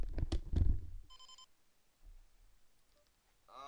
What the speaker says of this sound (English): And phone's ringing off the hook.